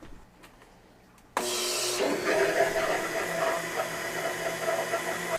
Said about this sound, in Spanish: Y ahora a licuar.